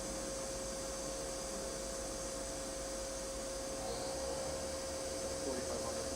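A Milltronics VM16 CNC mill spindle spins at 3,000 RPM, giving a faint, steady machine whine and hum that holds evenly throughout.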